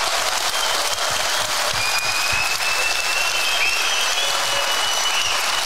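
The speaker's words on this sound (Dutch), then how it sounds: "Daar wil ik een applaus voor." Sustained applause from a large audience at a charity benefit evening in Zutphen, dense and steady throughout with no one speaking over it.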